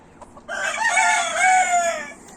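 A large rooster crows once, loud and close, a long harsh cock-a-doodle-doo that rises and then trails off.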